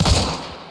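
A short burst of video game gunfire in an online survival shooter, loud at the start and tailing off quickly within under a second, with no voices over it.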